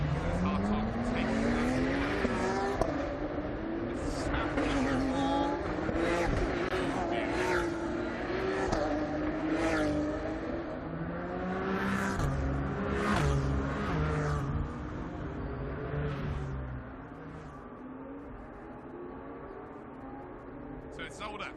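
Porsche GT3 Cup and GT4 race cars lapping Zolder circuit in a Porsche Carrera Cup Benelux race, engines roaring and passing continuously with occasional tire squeal, fairly loud, with a commentator talking over much of it.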